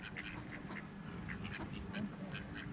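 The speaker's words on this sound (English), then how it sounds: "They're the mallard ducks." Mallard ducks at Deer Lake, quacking in short repeated calls over steady outdoor background noise, moderately distant.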